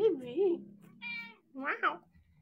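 A cat meows several times in short, rising and falling calls, close and fairly loud, with a person's voice also present between the meows.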